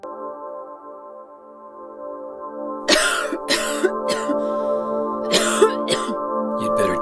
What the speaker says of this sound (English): You'd better do something about that cough.